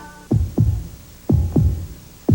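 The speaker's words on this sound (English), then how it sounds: "Listen to the heartbeat." Deep, booming heartbeat thumps in paired lub-dub beats, three pulses in quick rhythm, loud and close against a low hum.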